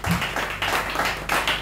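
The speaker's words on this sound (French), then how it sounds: "Acclamons le Seigneur très fort" Church congregation clapping during a French-language worship service, strong clapping coming in rhythmic surging bursts, fairly close and loud.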